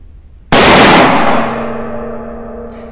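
A single loud, close rifle shot from a Mosin-Nagant M44 in 7.62x54R with its folding bayonet fixed, a sharp blast followed by a long ringing echo that fades over a couple of seconds.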